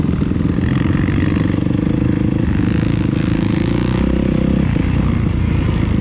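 An SR dirt bike motorcycle rides a motocross track, its engine droning steadily and loudly throughout with a continuous buzzing, revving tone at close range.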